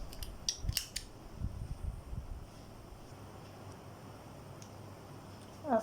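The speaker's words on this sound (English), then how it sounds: "and then we snip" Scissors snip crochet yarn close up, two or three quick crisp cuts near the start, then quiet handling noise.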